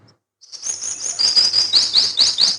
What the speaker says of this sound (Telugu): పక్షులు కిలకిల రావాలి